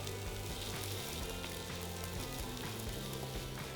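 Potato cakes crackle and sizzle steadily in hot oil, a close, continuous spitting fry with no talking.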